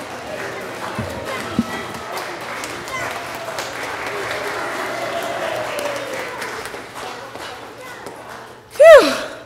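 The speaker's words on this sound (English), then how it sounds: "Everyone, help out by cheering Hallie on" A church congregation cheers, claps and murmurs while a child runs around the room during a Sunday service, a sustained crowd wash that ends in a sharp burst of noise close by.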